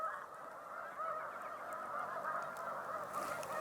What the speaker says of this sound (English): Up high, there are more geese, more snow geese.